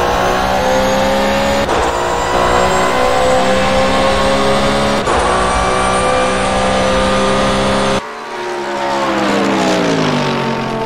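GT race cars including a Mercedes and a Porsche at speed at Virginia International Raceway, engines screaming loudly and continuously with rising and falling pitch as gears change, one car dropping in tone as it passes near the end.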